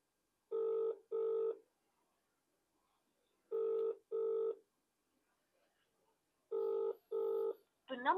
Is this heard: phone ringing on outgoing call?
yes